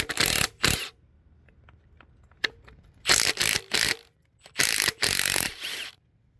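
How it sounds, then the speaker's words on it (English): Ratchet wrench loosening cylinder head bolts on an 1989 Chevy S10 engine, heard as several separate bursts of rapid clicking with quiet gaps between them, close and with no talking. "So now I'm taking off the head studs, the head bolts."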